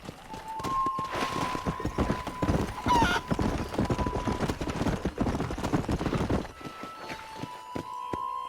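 Horse hooves clip-clop in a fast, steady rhythm during a ride in a Western video game, with a brief whinny and a background music tone underneath.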